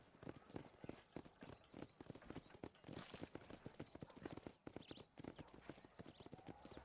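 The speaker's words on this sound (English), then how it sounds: "This the way the horses walk kind of feels. It sounds like ASMR almost." Horse hooves clip-clopping in a steady walking rhythm in the video game Red Dead Redemption, with close, distinct repeated hoofbeats and faint background ambience.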